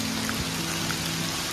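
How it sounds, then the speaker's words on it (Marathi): Heavy rain falling at a mountain temple, a constant dense hiss of drops, loud and close, with a low hum underneath and a few brief louder splashes. "पाऊस खूप आहे."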